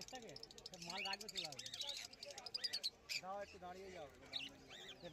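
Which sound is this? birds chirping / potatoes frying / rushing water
birds chirping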